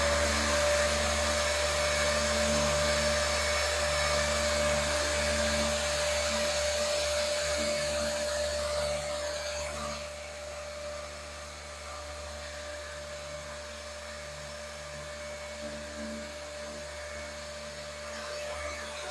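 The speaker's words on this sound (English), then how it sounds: "switch on the sander." An electric sander sanding back a surface in a UV curing demo, giving a steady, loud whirring motor drone with a constant tonal hum; it eases slightly partway through, then carries on evenly.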